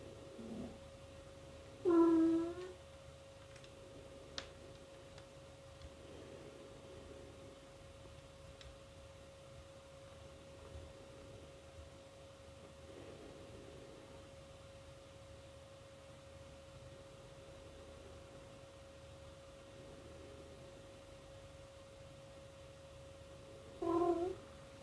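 A cat meows briefly to itself in a quiet room, two short soft calls, one near the start and one at the very end, with near silence and a faint steady hum between them.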